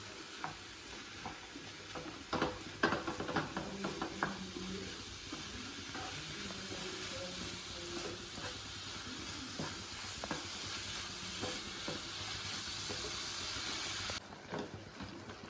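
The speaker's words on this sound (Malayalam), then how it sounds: "ആവശ്യത്തിനുള്ള ഉപ്പ് ഇളക്കി യോജിപ്പിച്ചെടുക്കുക" A spoon stirs salt into mushroom curry in a pan, with a few clattering scrapes early on and then a faint, steady sizzle and gentle stirring that continue quietly throughout.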